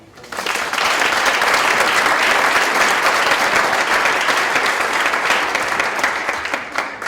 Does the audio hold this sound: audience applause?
yes